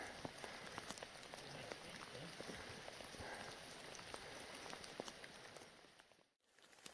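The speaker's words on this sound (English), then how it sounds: "It's been raining nearly all the way in, and it hasn't stopped." Rain falls steadily in the Australian wilderness during a sambar stag hunting hike, a dense hiss of patter with scattered nearby drops, briefly dipping near the end before the downpour resumes.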